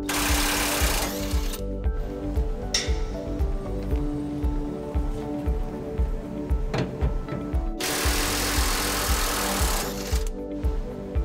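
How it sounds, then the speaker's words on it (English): Electric impact wrench with a 21 mm socket removing bolts on a 2011 Chevrolet Silverado 1500, loud rapid hammering bursts separated by brief pauses, close and mechanical throughout. "We got a 21 millimeter socket on our electric impact."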